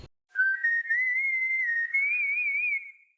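A character theme whistled as a clean solo melody in a Mega Man game reveal trailer: a single sustained, gently wavering tone with faint harmonics that rises in steps and holds steady for about three seconds, with no talk over it.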